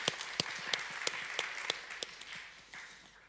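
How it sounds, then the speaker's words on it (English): Scattered audience applause at a tourism convention session, with a few loud, distinct claps standing out over softer clapping that thins and fades toward the end. "Applause for that"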